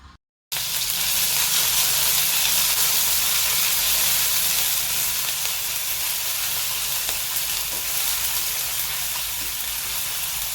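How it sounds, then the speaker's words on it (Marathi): Cumin, mustard seeds and a garlic, green chilli and ginger paste sizzling in hot oil, a loud, steady, close hiss that starts abruptly and holds evenly throughout. "तेल आपलं तापलेलं आहे याच्यामध्ये आपण जिरं मोहरी आणि त्याचबरोबर लसूण मिरची आणि आल्लं याची पेस्टसुद्धा आपण याच्यात पहा घालत आहे"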